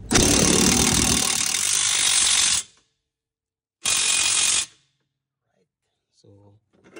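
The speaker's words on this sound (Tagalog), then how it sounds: "final tight tayo ng ratchet" A ratchet wrench tightens the stabilizer link bolt on a Honda CR-V during rear shock absorber work, a loud, close, continuous clicking rasp for over two seconds, then a shorter burst, followed by near silence.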